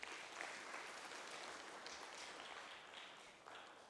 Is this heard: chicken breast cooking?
no